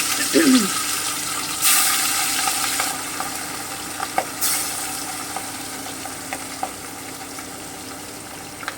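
Hilsa fish pieces frying in oil, a continuous moderate sizzle with a few louder hissing bursts and light clinks of a utensil, heard up close.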